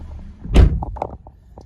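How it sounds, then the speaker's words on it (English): A 2014 Holden Commodore SV6 Storm door shuts with one solid thud, followed by a few faint clicks and small knocks as the cabin settles. "Shut the door."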